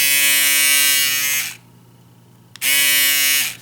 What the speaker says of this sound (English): Now let's talk about noise of this compared to other shavers